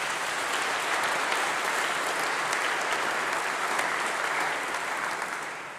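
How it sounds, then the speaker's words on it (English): Sustained audience applause at a university congregation ceremony, a dense, even wash of many hands clapping that holds steady for several seconds and tapers slightly at the end. "Professor Michael Dobson, I think, deserves a huge round of applause"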